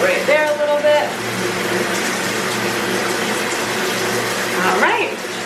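Shower water running steadily and hissing as it rinses wet curly hair, loud and close, with brief tonal squeaks near the start and end.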